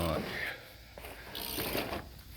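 A breaker bar ratchets steadily on a bolt of a 2008 Chevy Colorado LS tailgate, clicking nearby with some background voice and noise.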